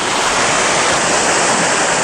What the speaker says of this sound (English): It does have waterfalls and a water feature that shoots over it